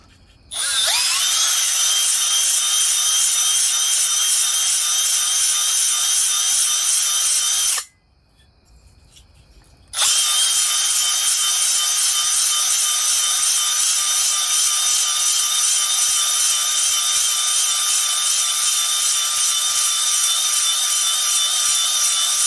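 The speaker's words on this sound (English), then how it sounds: "I'm going to take my finish hone." A finish hone works inside the oiled cylinder of a Kawasaki KE100 motorcycle, making a loud, steady high whirring and rubbing drone that stops for about two seconds and then resumes.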